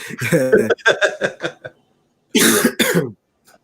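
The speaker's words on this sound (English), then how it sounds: "Why you coughing, bro?" Someone nearby coughs in a quick fit of hacking bursts, pauses briefly, then coughs again a few more times.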